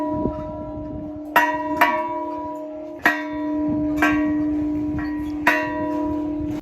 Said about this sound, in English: You also enjoy ringing the bell with your daddy.